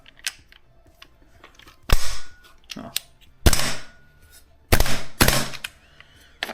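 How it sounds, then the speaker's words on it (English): Airsoft GHM-9 gas blowback SMG loaded with a Glock 18 magazine fires in four sharp, loud bursts, each a dense rattle of rapid shots, separated by quieter handling clicks and faint background noise. "That's a Norwich Glock 18 mag with the mag base from Norwich, and it's working great."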